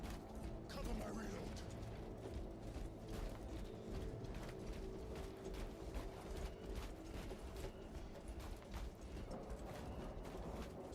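Bolt rifle reloading in Warhammer 40,000: Space Marine 2, heard as mechanical clacks and ratcheting clicks inside a dense, steady wash of battle noise, with voices over the top.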